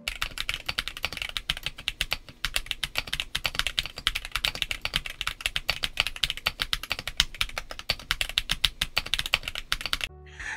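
Typing on a Monsgeek M1W 75% mechanical keyboard with polyfill in place of the case foam, a steady run of close, crisp keystrokes with dense rapid clacks and no talk.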